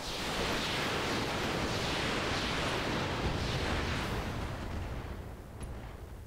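Mech weapons all firing at once in BattleTech with the RogueTech mod: a dense, sustained roar of cannon and missile fire rumbling continuously, then slowly fading toward the end.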